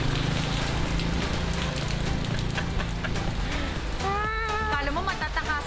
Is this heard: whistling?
no